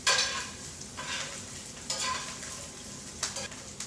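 Kale sizzles in a hot pan with a soft, continuous crackle, broken by a few brief stirring scrapes. It is near and moderately quiet, with no talk.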